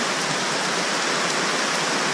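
Steady, dense rain pours down outdoors, a continuous broadband hiss with no gaps or voices, loud and close throughout.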